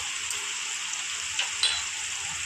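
Onion and garlic masala sizzles steadily in hot oil while being sautéed, a close, continuous hiss with a couple of faint ticks from stirring.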